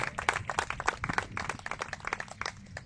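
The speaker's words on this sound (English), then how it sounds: "I think that deserves a round of applause" Applause at the Scorpions annual awards event marks the group's fifth year, a soft, steady patter of clapping hands from a modest audience throughout.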